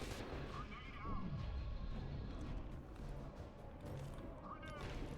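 Grenades trade back and forth in the shooter F.E.A.R. 2: Project Origin, with low rumbling blasts rolling through the scene. The blasts sit fairly muffled under a player talking.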